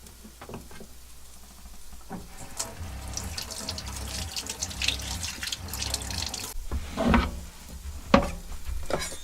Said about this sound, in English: We are, of course, going to rinse all this stuff off before we proceed to put it into the pot.